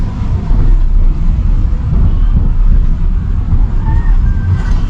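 A manual car's engine hums low and steady at 2000 RPM in second gear, with continuous rumble and road noise heard from inside the cabin, loud and unbroken.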